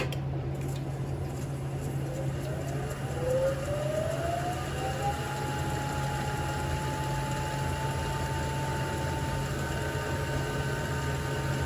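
A wood lathe turns a hard, dense kiawe bowl blank at about 1,000 RPM, giving a steady low hum with a rising whine that settles into an even tone, continuous throughout with no talking.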